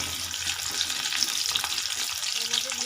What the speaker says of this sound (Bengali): তেল গরম হয়ে গেছে, এর মধ্যে দিয়ে দেব একটু কুচো করা রসুন।